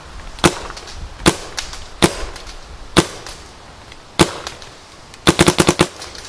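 A Nerve paintball marker fires sharp pops, first spaced single shots, then a fast burst of several near the end, loud and close over faint background noise.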